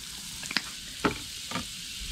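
Oil heats in a Petromax FT3 cast-iron pan, giving a faint steady hiss broken by three brief crackles or taps about half a second apart.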